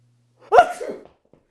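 A single sneeze bursts out loud and close, followed by a brief trailing breathy sound, with silence before and after; no one speaks during it.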